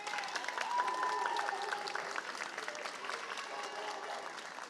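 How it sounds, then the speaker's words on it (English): Sustained applause from a large audience at a school of architecture and design commencement ceremony, dense steady clapping that holds for several seconds with a faint crowd murmur beneath. "I want you to give them a round of applause"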